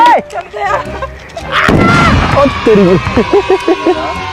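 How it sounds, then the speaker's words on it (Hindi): A sutli bomb firecracker blast bursts out amid excited chatter and shouting voices during Diwali, followed by crackling and voices continuing over the aftermath. "और गाइस ये है पहला सूतली बम मिसाल"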